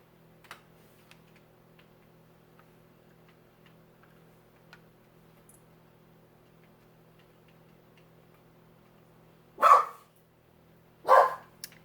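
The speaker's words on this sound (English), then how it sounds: "Ignore my dogs." Two loud, sharp dog barks ring out close by near the end, after a long stretch of quiet indoor room tone with faint ticking.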